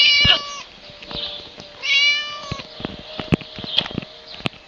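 A cat in the Scary Teacher video game meows twice, loud and close, with drawn-out cries over a backdrop of scattered clicks and taps.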